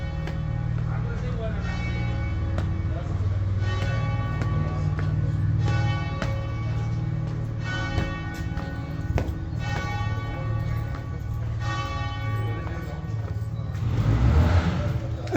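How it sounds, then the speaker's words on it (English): Church bells ring out in Jerusalem's Christian Quarter, a run of repeated metallic peals with long ringing overtones, fairly close and loud, with a vehicle passing near the end. "You can hit the bells."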